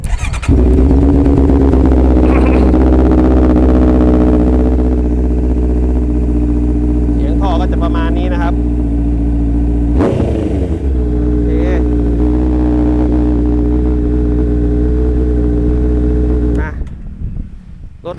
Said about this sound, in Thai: มา ฟังเสียงท่อกันนะครับ